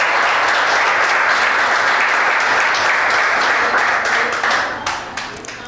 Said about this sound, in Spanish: Vamos a brindarle un aplauso a Dios